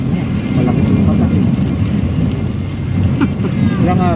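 Heavy, steady rain keeps falling overnight in Saudi Arabia, a dense continuous wash of noise with low rumble underneath, loud and unbroken throughout.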